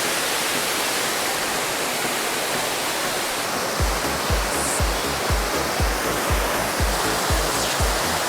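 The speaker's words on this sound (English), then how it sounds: "here we are at the top end of the falls" A waterfall in Manyueyuan National Forest roars steadily and loudly from close by, a dense unbroken rush. Deep, regular thumps join in partway through.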